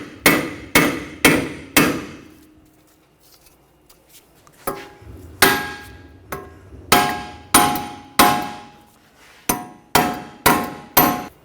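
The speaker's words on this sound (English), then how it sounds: "just take a hammer, all the bolts are out. Just from the back side, just give it some taps" A hammer strikes the wheel hub of a 2004-2009 Audi A4 Quattro again and again, sharp ringing clanks in uneven bursts with a short pause in between, close and loud.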